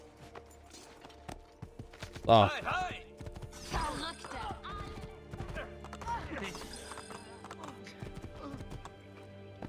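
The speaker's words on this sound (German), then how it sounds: "Pferd." Horse hooves clip-clopping and a whinny in a horse race in the video game Assassin's Creed 2, irregular thuds and a loud neigh near the start, with a voice briefly talking over it.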